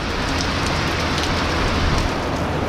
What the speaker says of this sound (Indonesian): Hujan tak berhenti, berhenti.